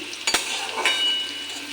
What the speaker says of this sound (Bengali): ওগুলা ভালো করে ভাজা করে নেব দেখো আমার আলু ক্যাপসিকাম